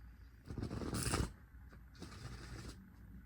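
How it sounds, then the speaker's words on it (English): A tarot card deck is shuffled by hand in a quiet room, giving a short, faint flurry of papery riffling and clicks that peaks briefly before a softer second rustle. "And I just shuffled the deck."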